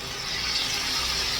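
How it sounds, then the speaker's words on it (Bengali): Water poured into a pan of chicken curry masala being cooked, a steady, even hiss-like stream running throughout without a break, close and moderately loud, with no talking. "অল্প জল দেবো"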